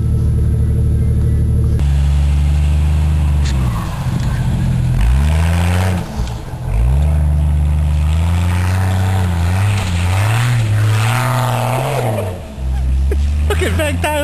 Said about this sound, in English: Brand new Jeep. Got him to test it out finally.